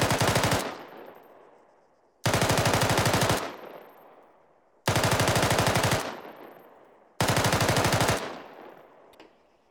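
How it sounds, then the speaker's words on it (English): Four long bursts of SAW machine gun fire at cyclic rate, each a rapid continuous stream of shots about a second long with echoing decay between, separated by short pauses, loud and alone. "A cyclic rate of fire is going to sound something like this."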